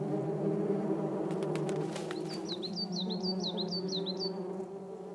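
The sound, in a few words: hornets buzzing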